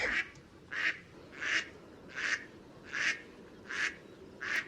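A duck from a farm-animal series quacks in a steady rhythm, seven evenly spaced, clear, moderately loud calls with quiet pauses between them and no talking.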